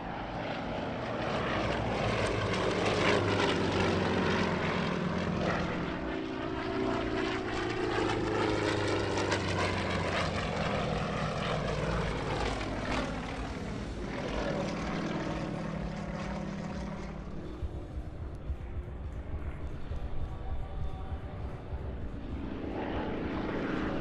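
Yak Stars aerobatic propeller aircraft fly an opposition pass at the Portugal Air Summit airshow, their engines roaring loud and close with rising and falling pitch as the planes sweep past each other, then fading.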